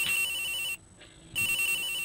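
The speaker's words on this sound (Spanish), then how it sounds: "¡Ah, no! ¡Es del juego! ¡Pensé que era mi celular!" Electronic phone ringtone from the Ace Attorney video game, a steady repeating ring that cuts off briefly for about half a second before resuming, clear and alone with no talk.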